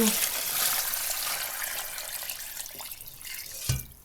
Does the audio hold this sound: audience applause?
no